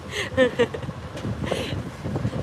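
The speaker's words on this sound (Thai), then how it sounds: "ลมเย็นมาก ลมเย็น" Wind gusts buffet the microphone outdoors in a steady rumbling roar, with brief bursts of voices and laughter near the start.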